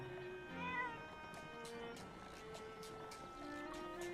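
A cat-like Pokémon in Pokémon Legends: Arceus gives a few soft, drawn-out meows over a tonal music bed, moderately close, with faint clicking game sounds alongside.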